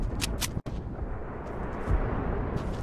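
Gunfire aimed at the player in the video game Fortnite: a dense, rumbling spread of shots with a few sharp cracks early on, then a steady noisy barrage.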